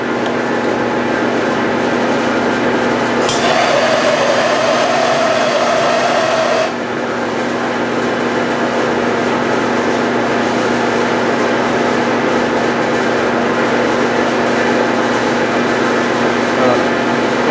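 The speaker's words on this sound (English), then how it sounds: "the way that the fan sucks the fumes into the louvers" An exhaust fan draws fumes into louvers with a loud, steady whooshing hum, joined for a few seconds early on by a brief higher-pitched whine.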